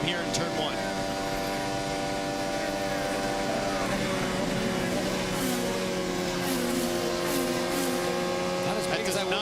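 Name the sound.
IndyCar engine onboard Scott Dixon's number 9 PNC car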